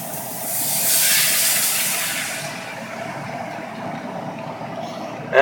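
Marsala wine hitting a hot pan of steak, a loud broad sizzling hiss that swells over the first couple of seconds then settles into a steady low simmer.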